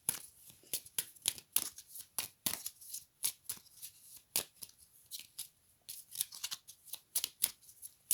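Tarot cards being shuffled and cut by hand, a rapid run of crisp papery riffles and slaps at close range, steady and uneven in rhythm, with no talking over them.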